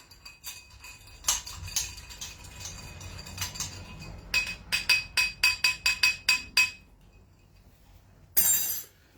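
A cocktail is stirred in a glass, giving rapid, bright clinks of a spoon against the glass in bursts, close and crisp, followed by a brief clatter and no talk.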